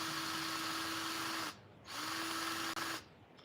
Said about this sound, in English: The drill finally worked.